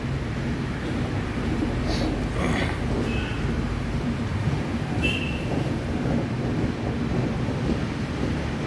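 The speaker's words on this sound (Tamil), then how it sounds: "எவ்வளோ தூரம் அந்த ட்ரெயின் பயணிக்குது பாருங்கள்." A train rolls along a railway on a long journey, giving a continuous loud rumble with rattling carriages and wind buffeting the microphone, and a couple of faint squeals over the noise.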